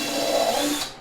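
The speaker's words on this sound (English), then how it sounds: "make sure when you're drilling like this, you keep your drill nice and straight" A power drill driving screws into wood, one steady close whirring run that holds its pitch and then winds down abruptly near the end.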